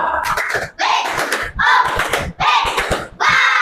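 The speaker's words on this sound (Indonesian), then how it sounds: "Kasih tepuk." Classroom students in a school group activity give several bursts of clapping, about five loud, close rounds separated by brief pauses, with some voices mixed in.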